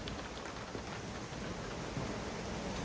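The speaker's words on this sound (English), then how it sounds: "But that rain is starting to come in." Rain beginning to fall around a historic mill, a faint steady hiss of drops spread across the surroundings, soft and continuous.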